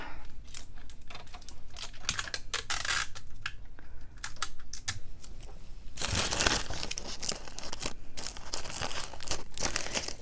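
Tape being peeled and pulled from a roll while crafting with fabric, a busy run of crinkly ripping and crackling bursts with clicks between them, close up, louder crackle in the latter half.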